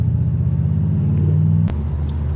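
A 1968 Chevelle with a manual transmission driving on the street, a loud, steady low engine drone heard from close by, with a brief click near the end.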